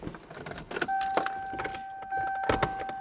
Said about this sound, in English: I like to put the key in